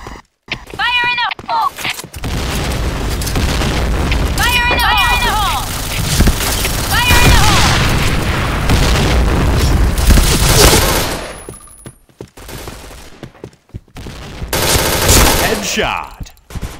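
Bursts of gunfire in a shooter game, with loud rapid shots mixed in among horse hooves clip-clopping and repeated whinnies, then a sudden drop to near quiet before the noise swells again.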